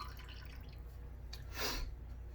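Water splashes down in one brief burst as a Lancaster shaving brush that was soaking in distilled water is wrung out, over a quiet room hum.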